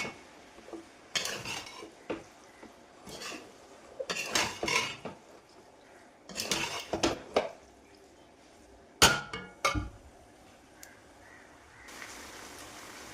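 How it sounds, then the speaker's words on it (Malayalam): A metal spoon scrapes and clatters against a pan as chilli pork and its ingredients are stirred together, coming in irregular bursts of clinks and knocks with quiet pauses between them. "എല്ലാം കൂടി നന്നായിട്ട് മിക്സ് ചെയ്യാം"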